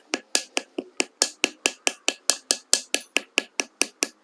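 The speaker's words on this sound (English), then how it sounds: "I just hammer or paddle around where the wall meets the bottom" A wooden paddle tool hammers around the base of a clay mug, where the wall meets the bottom, in about eighteen crisp, evenly spaced taps, close and loud with no talking.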